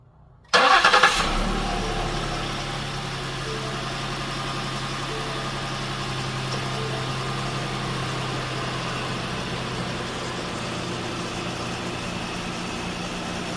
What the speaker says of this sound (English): You're going to want to run the engine a little bit, let it circulate through.